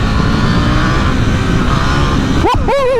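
A 2021 KTM 890 Duke R engine roars loudly at high revs, holding a steady drone before sharp quick-shifter and blipper gear changes near the end, with wind rush over the ride.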